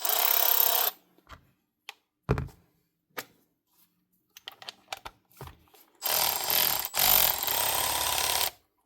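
A Milwaukee M12 FHIR38 cordless speed ratchet, repaired after a broken head, runs in loud whirring bursts at the start and end, with quieter clicks and taps in between as it changes direction.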